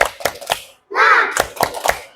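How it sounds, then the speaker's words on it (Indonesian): Children in a classroom clap on a count, giving a few sharp, evenly spaced claps, then a brief shouted group voice, then more rhythmic claps close by. "Tepuk 1, tepuk 2, tepuk 3, tepuk semangat."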